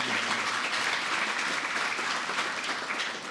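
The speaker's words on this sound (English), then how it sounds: "he deserves a round of applause for showing up" Audience applause at a workforce training graduation ceremony, a dense steady wash of many hands clapping that holds at an even level throughout with no voices on top.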